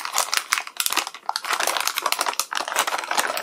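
Plastic and cardboard packaging around a graphics card crinkles and crackles as it is opened, in quick irregular bursts of rustling with short pauses, close and moderately loud.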